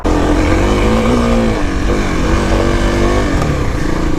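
Kawasaki KLX300 dirt bike engine revving hard while climbing an off-road hill, a loud, close single-cylinder drone holding high revs with slight pitch rises and falls throughout.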